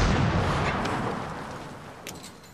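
A grenade goes off in a Medal of Honor Warfighter multiplayer match: a heavy boom opens, then decays into a rumbling tail with a few faint pops of distant gunfire near the end.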